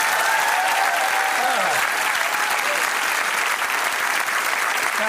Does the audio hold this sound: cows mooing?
no